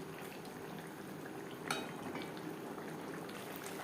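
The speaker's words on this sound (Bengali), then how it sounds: "গ্রেভির সাথে মাছ আরও তিন চার মিনিট রান্না করব" Sarpunti fish curry simmering in its gravy in a pan over a gas flame, a steady close bubbling and sizzling hiss with one brief clink of a utensil partway through.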